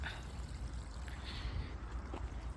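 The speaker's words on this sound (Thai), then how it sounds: "น้ำไหลละ" Water runs steadily from a garden hose into a freshly planted water spinach bed, a soft continuous outdoor rush at low level with no pauses.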